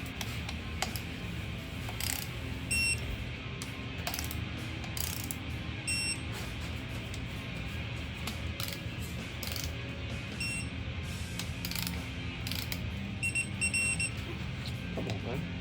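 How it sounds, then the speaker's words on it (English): A ratchet wrench torquing down engine bolts on a Gen V L86 LT1 stroker engine in a shop, with steady clicking bursts under a constant background hum. "Torque these down real quick."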